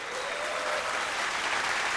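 An audience applauds a band at a televised vocal competition, a steady dense wash of clapping throughout, fairly close and alone, with no talk.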